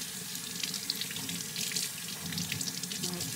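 Tap water runs steadily into a sink during handwashing, a close, soft and continuous splashing flow with no voices.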